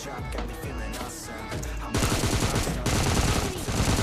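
Rapid automatic gunfire in the PUBG Lite shooter game, a dense sustained burst that grows louder and heavier halfway through, with continuous overlapping shots and no pauses.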